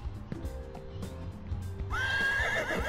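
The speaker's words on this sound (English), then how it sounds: "There's a horse over here." A horse in the Bad Guys at School video game gives a loud, close whinny that rises and trembles, beginning partway through and ringing out to the end, with clip-clop hooves and game ambience faintly underneath.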